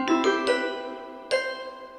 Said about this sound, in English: start this beat with an instance of Simpler and this Space Bell sample